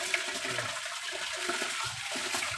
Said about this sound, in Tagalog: Kaya hugasan natin maigi para malinis.